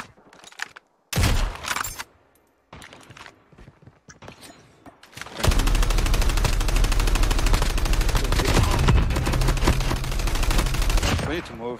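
Gunfire in a competitive shooter video game scrim: a few short, separate bursts of shots at first, then a long, loud stretch of dense rapid fire that continues to the end.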